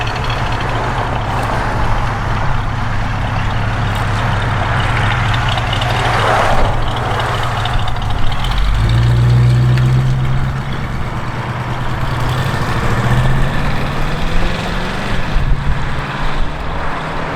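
A 1963 Ford Fairlane 500 engine idles steadily with a deep, rumbling burble, close by, with a slight rev swell partway through.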